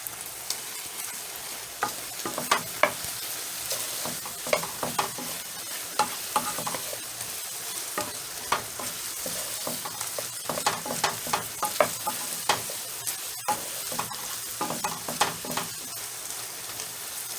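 Honey garlic chicken bites with pepper flakes being stirred in a pan, a constant close sizzle punctuated by frequent scraping and clacking from a utensil against the pan, no talking.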